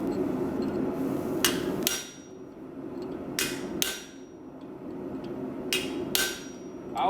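Sharp metallic hammer blows strike a slitting chisel on an anvil, arriving in close pairs separated by pauses, ringing briefly over a low steady hum of shop noise.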